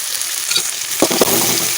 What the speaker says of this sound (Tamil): இஞ்சி பூண்டு பேஸ்ட் போட்டு நல்லா வதக்கணும்